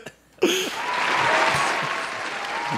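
A clapping sound effect played on a podcast bursts in suddenly after a brief quiet moment and continues as an even wash of applause, with a few faint voices murmuring underneath.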